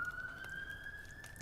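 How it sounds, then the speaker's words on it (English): An ambulance siren wails as a steady, slowly rising tone over a low rumble of background noise, faint and distant throughout the short stretch. "That's the ambulance coming to pick up D7278."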